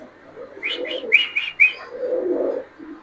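King pigeons coo nearby in a short series of soft, throaty calls mixed with a few brighter chirps.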